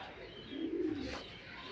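Racing pigeons kept as breeding pairs for middle-distance racing give a single soft, low coo in the middle of a quiet stretch, close by and faint, with light background hiss around it.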